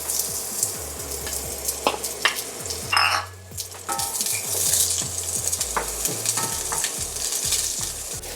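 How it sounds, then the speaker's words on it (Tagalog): Chopped onion sautéing in hot cooking oil in a pan, a steady close sizzle and crackle with scattered stirring scrapes and clinks of a utensil against the pan throughout. "saute your onion"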